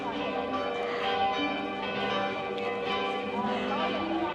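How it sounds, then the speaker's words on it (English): Church bell ringing at noon in Zagreb, a dense continuous peal with sustained ringing tones layered over one another, steady and fairly loud throughout. "And then the bell rings."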